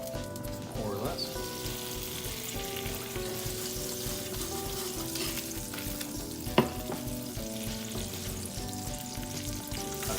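Butter sizzles and fries steadily in a pan as the start of an apricot sriracha glaze for smoked ham, a continuous crackling hiss with one brief sharp clink partway through.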